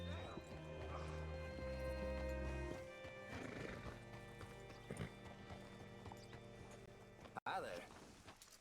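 Rhythmic clip-clop of horse hooves in the video game Red Dead Redemption 2 alongside a neighing horse, close and clear, with a voice speaking over the sound.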